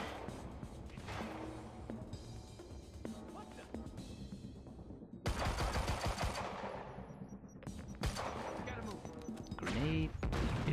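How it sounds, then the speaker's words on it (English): Rapid bursts of automatic gunfire in the video game Quantum Break, sustained and fairly loud. The rattling volleys are broken by sharper cracks and impacts, with a voice talking over parts of the firefight. "Somebody else is shooting at me."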